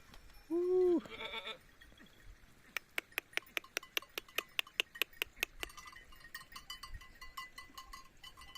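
A young goat kid gives a short, close bleat, followed by a run of rapid metallic clinks and scattered rustling, in a village near the Syrian border.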